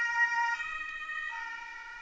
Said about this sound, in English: Sorry if you hear the sirens.